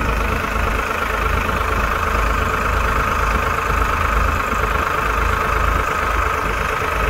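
Two 55 hp tractors run side by side at around 1000 RPM in a pulling contest, a steady, dense diesel drone that stays loud and even throughout with no voices.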